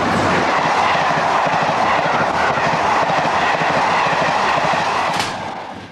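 A British Rail train runs loudly along the tracks, a continuous close roar with rhythmic wheel clatter and a brief squeal, fading slightly at the end.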